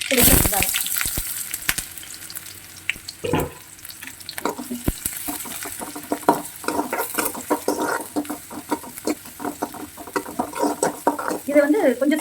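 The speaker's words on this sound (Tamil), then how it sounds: "கடுகு வெடிக்கட்டும்" Mustard seeds crackle and splutter in hot oil while drumstick leaf kootu is cooked, sharp pops scattered over a steady sizzle with some stirring clatter, close and fairly loud throughout.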